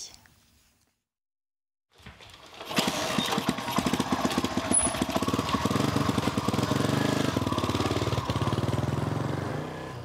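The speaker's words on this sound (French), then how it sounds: "démarrer une moto et entendre le bruit aussitôt" After a couple of seconds of silence, a motorcycle engine starts up and keeps running loudly with a rough, steady rattling drone.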